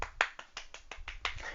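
A soft golf clap: about seven light, evenly spaced hand claps played close and quietly, with no talk.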